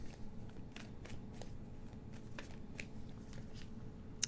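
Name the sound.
tarot cards being shuffled by hand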